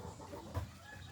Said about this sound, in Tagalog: Kita nyo guys kung gaano kadami yung manok namin guys.